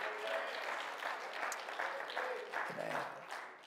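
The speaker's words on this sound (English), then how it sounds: "If you believe that tonight, clap your hands and praise Him." A church congregation claps hands in praise during an evening service, a sustained crowd of clapping with voices mixed in, moderately loud and fading slightly at the end.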